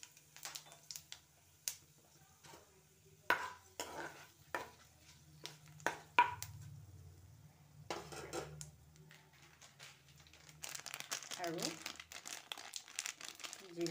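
Panch phoron spices crackle faintly in hot oil in a pan, a scatter of small pops and clinks of a utensil against the pan, while someone talks.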